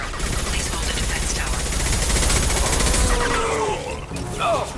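Sustained volleys of gunfire from a Mass Effect: Legendary Edition firefight, a dense, continuous crackle of shots that holds steady for several seconds, with game voices and effects mixed underneath before it thins out near the end.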